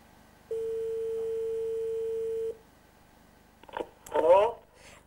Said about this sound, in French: Fatima consulte par téléphone un guérisseur qui vit au Maroc.